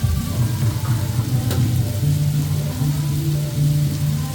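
Onion and spices frying in a pan for a home-cooked meal, a steady close sizzle and crackle with a low hum underneath and occasional stirring scrapes.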